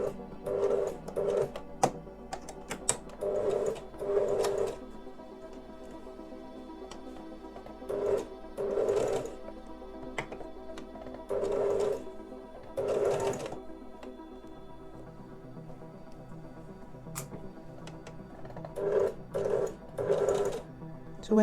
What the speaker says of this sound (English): I try to capture that on the sewing machine now.